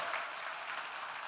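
A conference audience claps briefly, a soft, even patter of many hands heard from a distance, filling the short moment without any speech over it.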